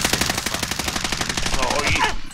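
Rapid automatic gunfire from a video game, loud and close, bursts rattling continuously for about two seconds before cutting off abruptly.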